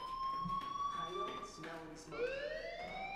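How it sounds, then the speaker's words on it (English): A fire alarm sounds in the video game Life is Strange, a steady high electronic tone that sweeps up and holds, faint and continuous, with someone talking over it. "do you hear that fire alarm? That means you should be outside."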